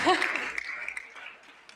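Brief burst of audience applause at a comedy talk show, loud at the onset and quickly thinning into scattered claps and faint laughter.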